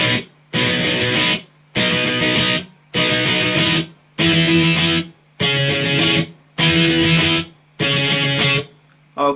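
Distorted electric guitar playing the intro of a song: seven loud, chugging strummed bursts in an even rhythm, each cut off by a short silence, close and alone.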